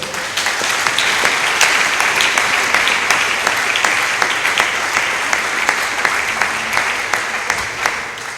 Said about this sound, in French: Acclame très fort le Seigneur.